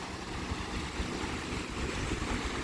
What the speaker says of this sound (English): Tide is coming in. The waves are getting louder.